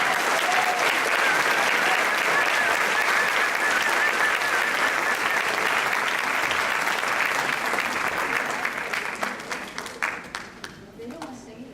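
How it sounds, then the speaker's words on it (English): Audience at a 2018 Saturday concert applauding Steve Ogden: full, loud clapping sustained for around nine seconds, then thinning into scattered individual claps as it dies away. "Let's have a hand for Steve Ogden."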